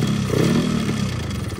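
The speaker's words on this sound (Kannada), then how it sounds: "ಇಂಜಿನ್ ನಾಯ್ಸ್ ಇದೆ, ಜಾಸ್ತಿ ಇಂಜಿನ್ ನಾಯ್ಸ್ ಇದೆ." A ported, untuned Yamaha RXZ motorcycle engine runs steadily up close, its loud, rough two-stroke note churning continuously with a rattly, clattering edge and no voices over it.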